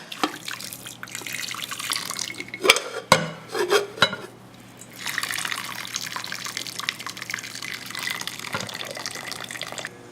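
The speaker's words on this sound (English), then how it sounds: "We drain the water from macaroni without drainer with the plate." Hot water pours out of a pot of cooked macaroni through a narrow gap under a plate held as a lid, a steady splashing stream into a sink with a few clanks of metal and ceramic midway.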